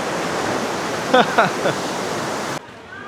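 Rising tide water on a Bali beach makes a steady broadband rush of washing surf close by, with a few brief voices rising over it before the sound cuts off abruptly.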